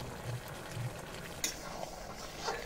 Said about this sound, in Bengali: তরকারিটা নেড়ে দেব।